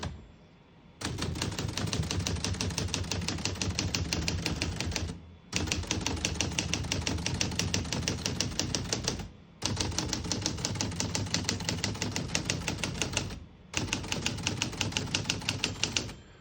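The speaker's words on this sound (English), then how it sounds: "Once you hear the bell, you're at the end of the margin." A 1957 Remington Quiet-Riter portable manual typewriter clacks away in rapid, steady bursts of keystrokes, with a margin bell and brief pauses between lines, loud and close with no talking.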